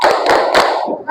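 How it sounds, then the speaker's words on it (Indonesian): A school group does a rhythmic focus clap, three quick loud bursts of many hands clapping in unison, close and crisp, followed by a brief pause. "ini adalah tepuk fokus seperti biasa"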